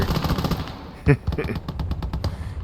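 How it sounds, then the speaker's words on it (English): MG42 machine gun firing in the WWII strategy game Gates of Hell Ostfront, rapid bursts of gunfire mixed with battle noise while someone talks over it. "I think he's direct controlling that MG42 there."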